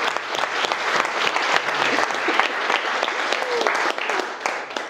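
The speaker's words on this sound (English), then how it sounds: "Can we have a big, big cheer for my beautiful bridesmaids, Mia, Lisa, and Poppy?" Wedding guests at a reception break into sustained, dense applause with scattered cheers, a steady wall of clapping that lasts throughout.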